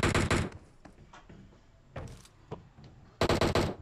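Gunshots from a weapon in the mobile battle royale game PUBG Mobile, a couple of sharp bursts with separate single shots between them, close and fairly loud with no voices.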